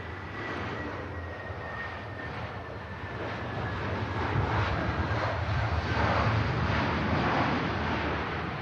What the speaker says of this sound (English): 9-year-old airframe about to touch down to wrap up the 800, almost 900 mile journey.